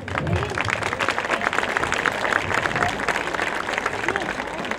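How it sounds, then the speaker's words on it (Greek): An audience claps for the musicians at a Greek traditional music event, a steady wash of applause lasting several seconds, with voices mixed in. "Ας δώσουμε και σε αυτούς ένα χειροκρότημα"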